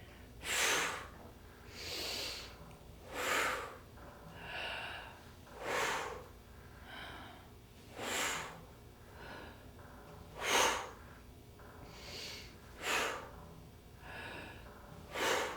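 Breathing during stretching and light exercise, a series of about a dozen strong, audible inhales and exhales at a slow, regular rhythm, close and clear with no talk.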